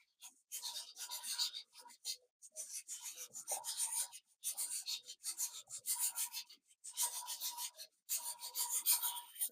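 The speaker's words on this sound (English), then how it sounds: "I already scrape. I'm just showing you how I scrape." A knife scrapes cow foot for Jamaican soup in quick, repeated rasping strokes, close and soft, with short breaks between bursts and no talking.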